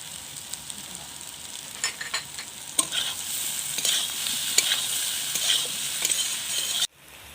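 Pointed gourd and shrimp fry with salt and chili powder in a pan, giving a steady bright sizzle with repeated stirring scrapes and clinks, ending abruptly.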